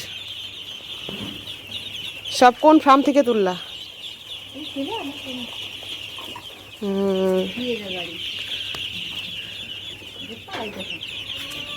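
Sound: many ducks quacking on farm

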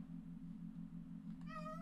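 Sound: cat killing a rabbit in Minecraft video game

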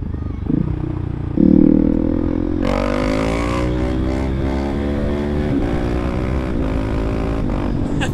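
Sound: KTM SMC-R 690 motorcycle riding

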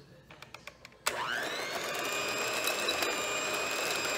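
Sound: whisking aquafaba egg foam mixture for vegan chocolate mousse

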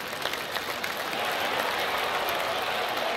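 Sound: golf crowd applauding in PGA TOUR 2K21 video game

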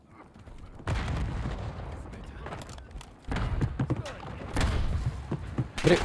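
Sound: gunfire in the video game Warzone

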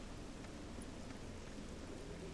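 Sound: rain ambience in a rusty scrap forest, Torchlight II video game

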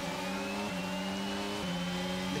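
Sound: F1 22 race car engine in video game, Bahrain Grand Prix

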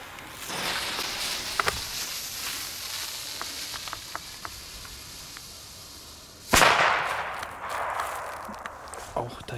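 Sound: Weco China Böller D firecracker exploding

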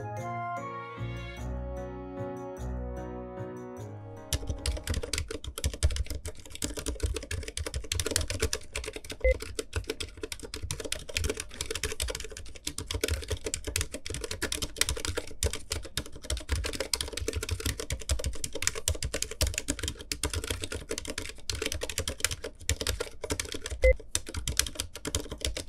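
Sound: typing on silent mechanical keyboard

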